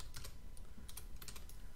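Someone types on a computer keyboard at close range. The keystrokes come quick and uneven in a short burst of soft clicks, with no talking over them.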